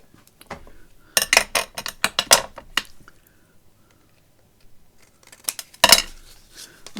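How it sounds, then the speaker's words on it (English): Scissors snip the corners off a card craft tag, a quick burst of crisp cuts followed by a pause and then a final, louder snip close by. "I'm just going to cut my tag corners into place."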